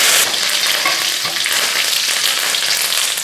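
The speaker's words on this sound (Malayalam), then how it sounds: "കടുക് പൊട്ടി കറിവേപ്പില ഇടാം." Mustard seeds and curry leaves fry in hot oil for a wheat ada recipe, giving a steady, close, loud sizzle with fine crackling throughout and no voices.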